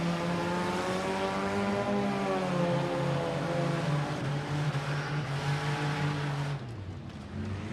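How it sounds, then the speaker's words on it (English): Race cars in a figure 8 heat at Rapid Speedway, a loud continuous engine roar with harmonic whine rising in pitch as they accelerate, dropping off sharply near the end as the cars pull away. "Anything can happen in a figure 8 race."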